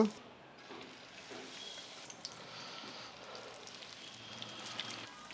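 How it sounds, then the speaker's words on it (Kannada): Chilli bajji (mirchi bajji) dropped one by one into hot oil, giving a steady, fairly quiet sizzle and crackle that runs throughout. "ಈಗ ಒಂದೊಂದೇ ಮೆಣಸಿನ್ಕಾಯಿನ ಎಣ್ಣೆಯಲ್ಲಿ ಬಿಟ್ಕೋಣ."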